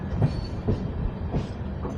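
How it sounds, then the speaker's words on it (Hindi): A train pulls away from Kanyakumari railway station heading north, with a rumbling low roll and regular clickety-clack wheel beats about every half second, loud and close from inside the carriage. "इंडिया के लास्ट रेलवे स्टेशन को पीछे छोड़ते हुए हम निकल चुके हैं नॉर्थ की तरफ, कन्याकुमारी से कश्मीर इस ट्रेन जर्नी पे"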